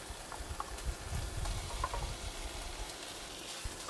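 Pieces of fish for a spicy Thai stir-fry hitting a hot pan with a little water, giving a soft, steady sizzle with light stirring scrapes and a few brief clinks.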